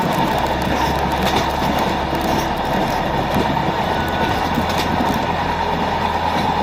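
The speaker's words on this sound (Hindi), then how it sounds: "हमारी राजधानी ट्रेन सराय घाट पुल से होकर गुजरेगी।" The Rajdhani Express crosses the Saraighat bridge over the Brahmaputra in Assam, heard from on board as a loud, continuous rumble of rolling carriages with steady low clatter throughout.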